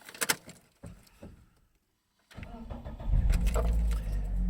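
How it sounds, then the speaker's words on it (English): A few clicks and a brief crank, a moment of quiet, then the 2-litre petrol engine of a 2006 Toyota Hiace catches and settles into a steady idle rumble, fairly close. "start the engine"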